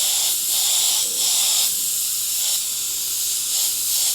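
An airbrush sprays paint in a continuous close hiss that pulses softly with repeated back-and-forth passes.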